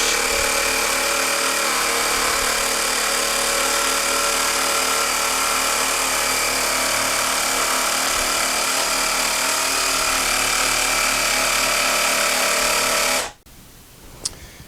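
A power tool on a workbench cuts a gentle, undulating live edge into machined wood, giving a loud, steady whine that runs for about thirteen seconds before stopping abruptly.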